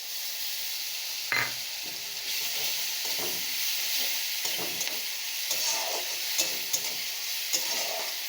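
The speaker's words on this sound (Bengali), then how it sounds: "পেঁয়াজটাই দেখো একটু লাল লাল করে ভাজা হয়ে গেছে, এখন আদা রসুনের পেস্টটা দিয়ে দেব" Onion with ginger-garlic paste sizzles in a hot pan, a bright, steady hiss punctuated by stirring scrapes and spatula knocks, close up with no talking.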